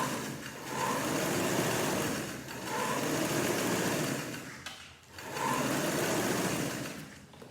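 A sewing machine stitches a vest in three long, steady runs, each a close, even mechanical whir with brief pauses between them and no talk.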